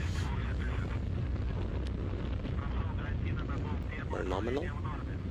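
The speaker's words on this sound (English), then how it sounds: "The rocket continues its ascent." A rocket engine roars steadily during the ascent of a satellite launch, a dense continuous rumble heard under a radio voice reporting status.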